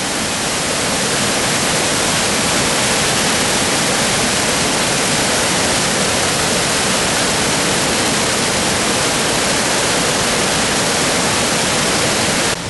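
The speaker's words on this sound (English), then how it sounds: "waterfall there, look." A waterfall on the River Eden near Kirkby Stephen in Cumbria, seen from under a bridge, pours in a dense, loud, unbroken roar of rushing water that stays steady throughout with no voices.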